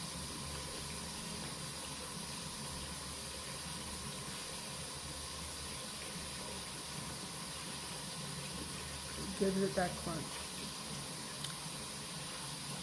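Water runs steadily into a kitchen sink as soapy dishwater fills it, a constant broadband hiss across the clip with a brief louder clatter near the end and a short spoken remark over it.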